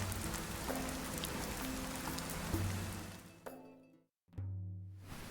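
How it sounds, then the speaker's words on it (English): Steady rain patters on surfaces in the video game Dead in Vinland, a dense hiss with low tonal game music underneath, cutting out briefly near the end before resuming. "Another day of rain."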